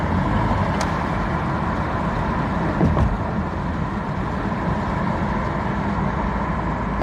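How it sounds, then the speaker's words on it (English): A truck drives past on a street, giving a steady low engine and road rumble with a slight swell at about the midpoint, heard alone at a moderate distance. "Nope, that's just a truck."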